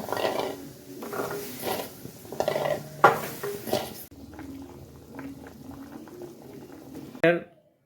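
Amla, Indian gooseberries, boil in water in a pot, a close bubbling simmer with clinks of pot and spoon, a sharp clatter near the end, and a voice speaking over parts of it.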